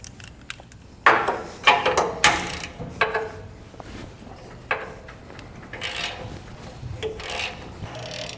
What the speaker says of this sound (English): we can go ahead and start breaking these nuts loose here on our U-bolts so that we can get our leaf spring loose